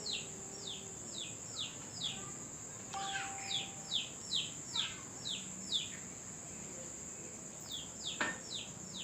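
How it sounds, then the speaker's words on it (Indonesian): Wild birds chirping in a guava tree near a house, with repeated short, bright, high calls in quick bursts over a steady insect drone, fairly near and alone with no voices. "Nah, ada 2 burung bro."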